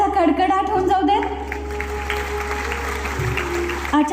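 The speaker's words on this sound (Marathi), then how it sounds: "एकदा जोरदार टाळ्यांचा कडकडाट होऊन जाऊ दे" Audience applause at the inauguration ceremony of a sugar technology expo, a steady wash of clapping heard under a voice and musical tones.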